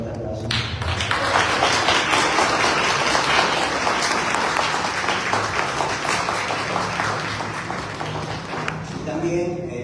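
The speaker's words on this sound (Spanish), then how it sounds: "por favor le pedimos a todos un fuerte aplauso" An audience gives a strong round of applause at a literary event honouring Elena Poniatowska, dense sustained clapping that swells and holds for about ten seconds before easing slightly.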